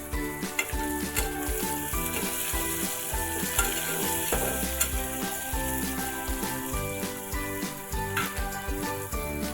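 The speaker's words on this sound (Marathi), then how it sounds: "आता आपण त्यामध्ये टोमॅटो टाकू।" Chopped tomatoes dropped into a pan of browned onions frying for masale bhat, a steady loud sizzle with clinking stirring sounds throughout and no talking.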